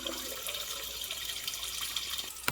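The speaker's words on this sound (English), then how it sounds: "start off by filling your pot of water, salting it like the ocean, and putting a stick of butter in" Tap water runs steadily into a cooking pot being filled for boiling corn on the cob, a continuous hiss and splash close by with no talking.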